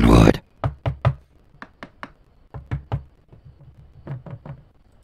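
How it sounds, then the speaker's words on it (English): Knuckles knock on wood in a home setting, a loud first burst followed by a long string of sharp, close raps in short uneven clusters, with no one speaking. "Knock on wood."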